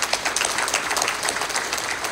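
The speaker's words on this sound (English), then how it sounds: "I think everybody deserves a big round of applause here." A room full of people applauds at a vaccination center's closing event, many hands clapping in a dense, continuous patter that stays loud and even throughout.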